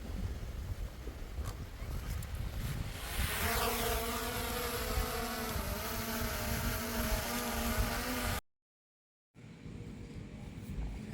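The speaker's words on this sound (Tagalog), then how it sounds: "Ayan guys, subukan natin paliparin yung drone." A drone lifts off and flies at a beach resort in strong wind, its high whining buzz rising in pitch and settling into a steady hum, fairly faint amid gusty wind before a brief cut.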